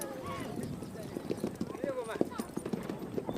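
Mongolian horses' hooves clip-clop steadily and fairly close, with a rapid, uneven rhythm of many strikes, while a narrator's voice runs over the top.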